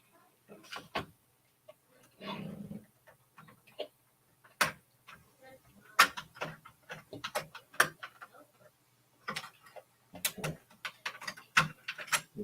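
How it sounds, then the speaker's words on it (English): Needle-nose pliers working on a Stern Star Wars Pro pinball machine give sharp, close metallic clicks and ticks in irregular bursts, separated by brief quiet gaps. "And I have to hold it down with actual freaking pliers."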